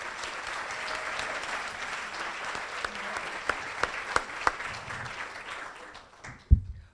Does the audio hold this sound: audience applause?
yes